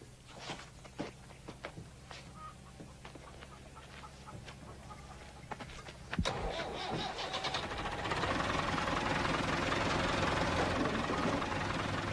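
A bus engine cranks and catches about six seconds in, then settles into a steady, loud idle with rising roar, preceded by scattered knocks and clatter nearby.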